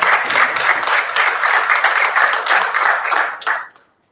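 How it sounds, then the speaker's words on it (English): An audience at a community dialogue gives a speaker a warm round of applause, with steady, dense clapping that holds for about three seconds and then quickly dies away. "A warm hand of applause, please, for Mrs. Faldila."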